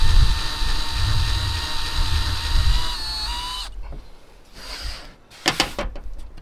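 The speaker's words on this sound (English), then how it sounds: "partially drill a hole." A power drill bores partway into wood with its bit, giving a steady, high motor whine for about three and a half seconds. It then cuts off, followed by a few close clunks and knocks of handling.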